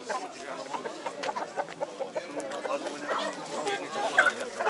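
Chickens cluck at a poultry market while people haggle and talk nearby, the birds' calls faint and scattered under the voices.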